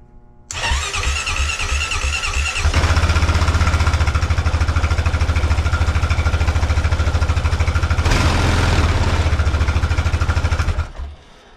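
A Honda Rancher 420 ATV with a newly replaced fuel pump cranks with a rhythmic starter churn for about two seconds, then fires and settles into a steady, loud, close idle before shutting off.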